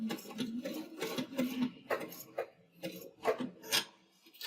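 A sewing machine stitches a dog collar bandanna, running in short uneven bursts of rhythmic whirring and tapping with brief pauses between, close and fairly quiet.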